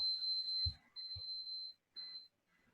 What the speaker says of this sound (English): That's my timer going off.